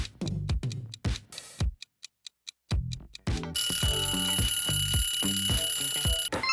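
A countdown timer ticks in sharp, evenly spaced clicks, falls silent for a moment, then resumes ticking before a continuous, bright alarm-clock-style ring sounds under the final ticks.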